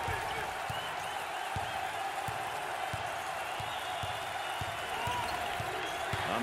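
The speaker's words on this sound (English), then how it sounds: "Listen to the crowd." Basketball arena crowd roaring steadily through a college game between Tulane and Houston, with sharp ball bounces thudding at a regular dribble rhythm underneath the sustained cheering.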